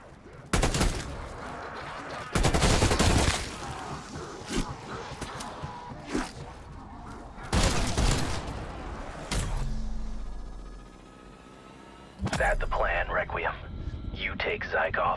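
Rifle gunfire from Black Ops Cold War Zombies cracks in several loud, close bursts separated by short pauses, mixed with footsteps, gear rustle and a low droning hum.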